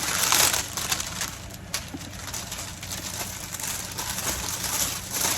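Close, continuous crinkling and rustling of a thin plastic shrink-wrap bag being handled and stuffed, a broadband crackle with no voices.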